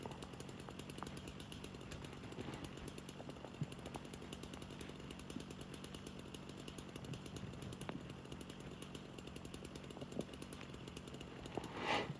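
A Stihl 881 chainsaw cuts through wood with a continuous buzzing drone, steady and fairly loud throughout, with no voices over it.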